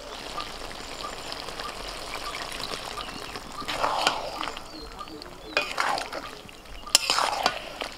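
Meat-boiling water poured into a pot of cooked spinach and potatoes for palak mutton, a low watery hiss building into splashy bursts near the end, close and fairly quiet.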